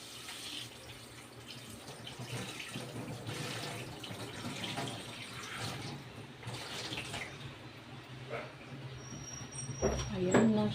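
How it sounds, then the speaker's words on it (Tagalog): Tap water runs steadily over tomatoes being washed in a kitchen sink, with a continuous splashing hiss and a louder clatter near the end, close by. "Hugasan natin ang kamatis."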